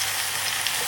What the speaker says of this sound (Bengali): ধনিয়ার গুঁড়া, ধনিয়া, হলুদ এই সমস্ত সব দিয়ে ভালোভাবে কষাই নিলাম।